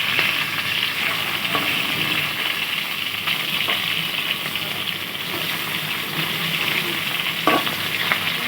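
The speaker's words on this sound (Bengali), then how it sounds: "ওদিকে মাছ ভাজা হচ্ছে" Katla fish fries in a pan with a constant loud sizzle of hot oil and occasional sharp crackles and pops, with no talking.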